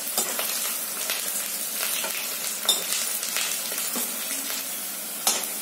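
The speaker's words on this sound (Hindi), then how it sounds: "अब इसमें हम ये हरी मिर्च भी डाल देंगे और कुछ देर के लिए हरी मिर्च को भी इसी में पकने देंगे" Green chilies sizzle in hot oil with browned onions in a pan for a mushroom-paneer-style matar paneer base, a steady close frying hiss with a few soft clinks and no talk.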